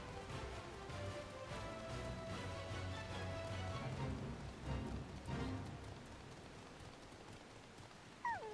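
Rain in Final Fantasy XIV, a soft, steady patter that stays faint and even throughout, with a few quiet game sounds and a short chirp near the end.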